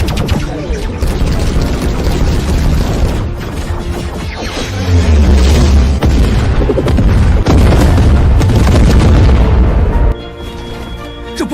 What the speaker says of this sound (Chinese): 天元矩阵，前置火力点，全弹射击。